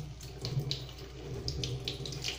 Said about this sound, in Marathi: हे बघा, व्यवस्थित नळाखाली धुवून घेतले